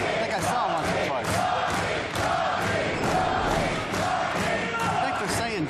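Spectators at a US Open racquetball final chant a player's name over and over in a steady pulsing rhythm, loud and filling the arena, with commentators talking over it.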